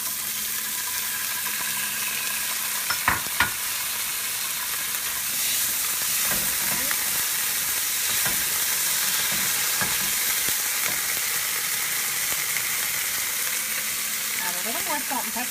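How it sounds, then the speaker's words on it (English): Beans go into a pan of frying garlic, setting off a steady, loud bright sizzle that holds throughout, with a few soft clinks of stirring early on and no voices. "Let that garlic get nice and yummy. Okay, now we're going to add our beans."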